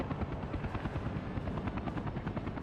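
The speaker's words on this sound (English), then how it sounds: "Helicopters, come on." A helicopter flies in the city-building game Workers and Resources, its rotor chopping in a fast, steady throb that stays loud and close throughout, with no talk.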